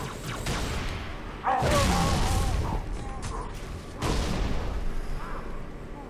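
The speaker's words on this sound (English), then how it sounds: "Whoa, grenades. Man, they're really grenade happy." Grenade explosions in Halo 3 ODST, two heavy booms a couple of seconds apart amid continuous gunfire and battle noise, loud and dense throughout.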